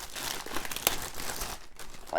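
Plastic packaging peeled off a turntable box, close crinkling and crackling with a sharp snap near the middle, loud and continuous over a short stretch.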